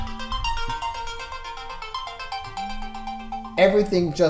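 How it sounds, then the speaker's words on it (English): A melodic electronic ringtone plays a repeating tune, then a voice cuts in near the end over it. "So my phone's going off."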